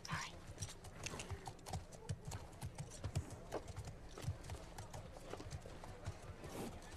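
Steady clip-clop of horse hooves at a walking pace, close by, with faint voices and background game noise in The Last of Us Part II.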